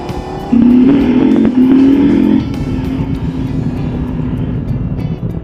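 A Husqvarna Norden 901 Expedition motorcycle on its first ride of the year, engine droning loud and close with a strong steady tone that surges for a couple of seconds before settling back to a lower cruising hum.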